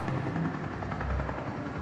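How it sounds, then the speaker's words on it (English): A helicopter in the video game Dreams of Another flies overhead with a continuous low rotor thrum, faint and steady, and no one talks. "There's a noisy helicopter flying around here."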